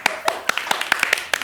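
Scattered hand claps from a small group during a Hindi comedy show, sharp irregular slaps up close with no talk over them.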